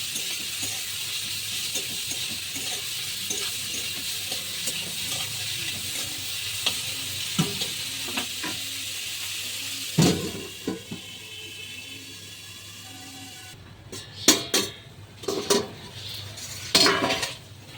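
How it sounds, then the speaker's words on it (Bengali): Salted onions frying in a pan, giving a steady sizzle throughout, with occasional clinks of a spoon stirring against the metal and louder scraping bursts near the end, close up, no talk. "দিয়ে আমি পেঁয়াজটাকে একটু লাল করে ভেজে নেব"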